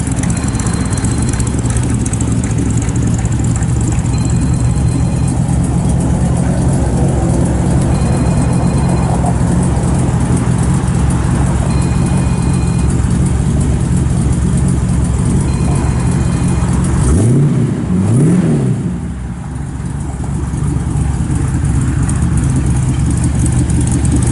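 A 1955 Chevrolet 3100 shortbox pickup with headers, dual exhaust and a mild cam idles close by with a loud, steady low rumble, and near the end it gives a brief blip of the throttle.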